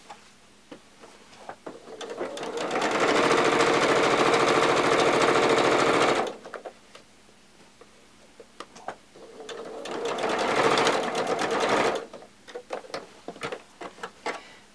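Sewing machine stitching elastic onto a fabric face mask, with two loud, fast bursts of rapid needle clatter separated by quiet handling sounds and soft clicks.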